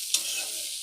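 Asafoetida and green chili frying in hot oil in a pan, heard as a steady close sizzle with two brief scraping stirs, no voices.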